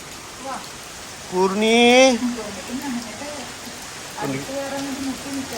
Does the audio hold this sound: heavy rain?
yes